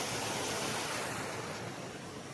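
Rushing water pours into a lake filled after rain, a steady broadband roar like a spillway or strong inflow, fairly faint and unbroken, with no voices.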